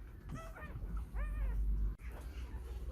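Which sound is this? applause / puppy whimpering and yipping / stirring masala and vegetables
puppy whimpering and yipping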